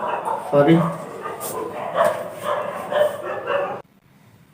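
Dogs barking and yipping outdoors, a few sharp barks and whimpers mixed with someone talking over them, until the sound drops away abruptly near the end.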